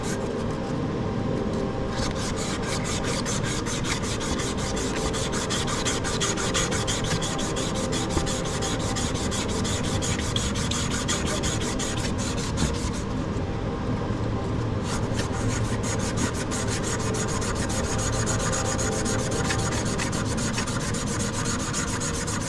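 Abrasive cloth rubs hard and steadily against a part of a Troy-Bilt 21-inch push mower, making a loud, continuous close-up scouring rasp with only brief pauses and no talking.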